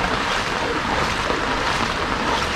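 Floodwater from a river that has burst its banks rushes past village houses, a steady, dense roar of churning water filling the whole span without pause, loud and close, no voices over it.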